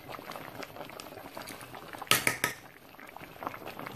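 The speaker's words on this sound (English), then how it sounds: "Stir and allow to simmer for about 3 minutes." Yam porridge with dried fish simmering in a pot, a close, continuous bubbling and gurgling with a brief burst of metal spoon clinks against the pot in the middle.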